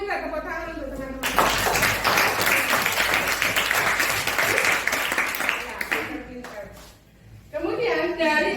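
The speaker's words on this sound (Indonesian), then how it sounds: "Minta tepuk tangan untuk teman-teman." A classroom of children applauds for their classmates, with a long burst of loud, dense clapping that stops and then picks up again briefly, while a teacher and the children talk around it.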